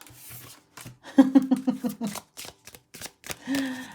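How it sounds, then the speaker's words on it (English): Tarot cards are shuffled in a quick run of crisp riffling flicks, close and clear, with a little handling noise before and after. "You saw the way that card flew out immediately, and you saw me shuffling"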